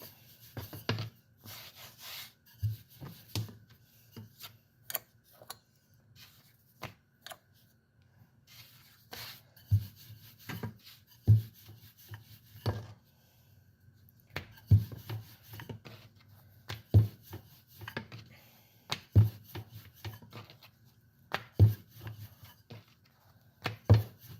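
Flatbread dough being rolled out with a rolling pin on a floured board, soft rubbing strokes with repeated light wooden knocks and taps in an irregular rhythm, quiet and close with no talking.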